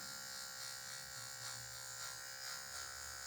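An electric hair clipper buzzes continuously up close, its tip trimming a low fade on a client's light hair. The motor hum is even and unbroken, with faint pulses as the blade passes over the head.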